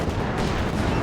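An M10 tank destroyer firing its gun in a video game, a heavy boom folded into a thick, continuous wash of battle noise, loud and close for a single short moment.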